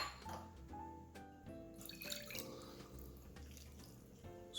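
Water, about three-quarters of a cup, is poured into a pot of Mangalorean chicken curry, giving a few seconds of trickling and splashing with small drips, moderately close and without talk.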